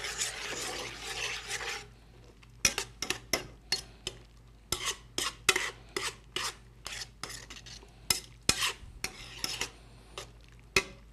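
A spoon scrapes and clinks against a bowl in a quick, irregular series of sharp strokes while a Dijon mustard sauce mixture for pork medallions is stirred, the taps close and clear over a quiet background.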